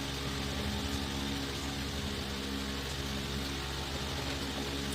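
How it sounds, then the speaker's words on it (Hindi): A refrigerator compressor runs directly after its wires were shorted, a steady, loud low hum and buzz with constant broadband noise and no change in level, no speech. "देखिए चल रहा है कंप्रेसर।"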